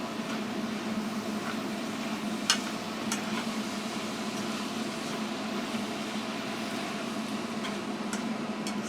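Greens being stirred and fried in a pan during evening home cooking, a steady close sizzle with a few sharp clicks and taps of a utensil against the pan.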